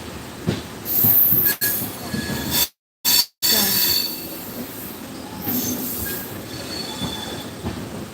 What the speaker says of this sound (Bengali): আমি ট্রেনের মধ্যে রয়েছি